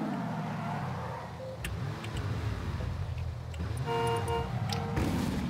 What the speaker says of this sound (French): c'est la première fois que je pense à klaxonner, alors je le fais